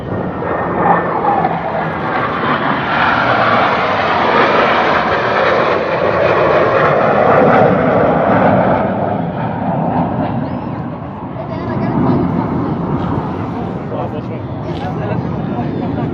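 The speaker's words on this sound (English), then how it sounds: "Now coming from the north, moving southbound, high-speed pass, here are your Blue Angels." Blue Angels jets making a high-speed southbound pass at the 2017 Chicago Airshow, a loud, continuous roar that swells and holds across the whole stretch before easing slightly near the end.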